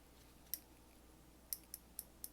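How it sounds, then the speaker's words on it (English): Williams MB-52EHA 1/4 inch drive ratchet with a coarse 36-tooth mechanism ratcheting, giving five sharp, faint clicks, one isolated and then a quick burst of four, against a quiet background. "This is how it looks when it's ratcheting."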